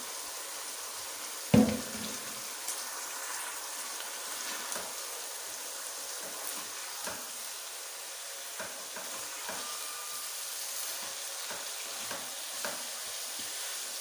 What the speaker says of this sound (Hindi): यहाँ पर मैं आलू शामिल करने लगा हूँ ताकि ये भी फ्राई हो जाए।